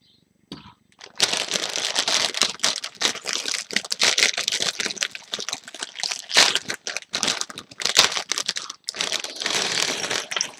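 A plastic bag of LEGO pieces from the Legends of Chima Sir Fangar's Ice Fortress set is torn open and handled, giving close, busy crinkling with small plastic rattles in irregular bursts.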